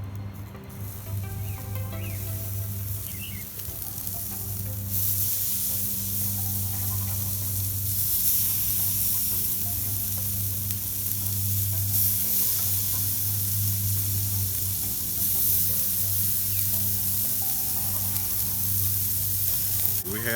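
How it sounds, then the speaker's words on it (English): Pork skewers sizzling on a lump charcoal grill: a steady close crackling sizzle with soft popping, continuous and moderately quiet, rising slightly partway through, with no talking. "We have our pork on a stick on our charcoal grill"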